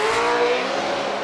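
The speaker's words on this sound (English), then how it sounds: "Look at that, nice aggressive throttle." A drift car at Formula Drift Long Beach revs hard on the throttle, a loud, raw engine roar held for a moment and then fading slightly, heard without talk.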